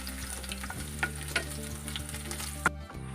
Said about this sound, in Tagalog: magigisa tayo ng bawang